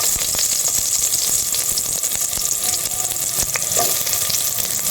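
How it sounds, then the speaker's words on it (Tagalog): Onion dropped into hot cooking oil in a pan, giving a loud, dense, continuous sizzle up close with a few faint clinks, no talking. "Since mainit na ang mantika natin, nilagyan na natin ang onion."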